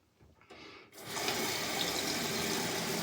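Tap water starts running after a quiet moment and then pours steadily and fairly loudly, rinsing a straight razor in a sink.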